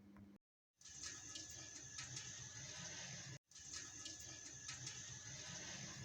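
Water from rice cooked 80% through pours off through a strainer in a home kitchen, a steady, faint gushing stream of liquid, briefly interrupted twice and otherwise continuous.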